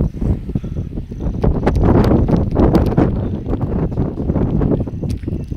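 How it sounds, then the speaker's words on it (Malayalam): Wind gusting across misty, fog-covered hills, a steady rushing roar buffeting the microphone that swells and eases over a few seconds, with no voices. "നൈസ്, നല്ല കാറ്റുമുണ്ട്."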